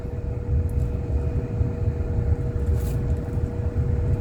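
An MG HS PHEV plug-in hybrid cruising along a scenic road, a steady low rumble of tyres and wind with a constant faint hum and no talking.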